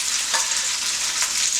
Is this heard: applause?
no